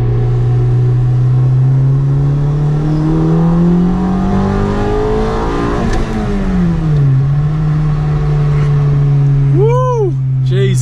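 A Honda engine with VTEC pulling hard from inside the car, its loud, steady note climbing in pitch as revs rise, then dropping at a shift before building again, with a voice briefly audible near the end.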